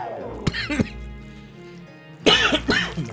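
A person coughs sharply a couple of times, then after a short quiet stretch breaks into a louder burst of coughing, close by, in the video game Luigi's Mansion 3.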